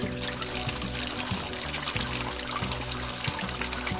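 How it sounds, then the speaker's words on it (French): Water bottles are filled with fresh water beside a Newfoundland rail trail during a bike trip: a steady, close pour with a gurgling trickle and slight surges, with no voices. "Remplir mes bouteilles de bonne eau."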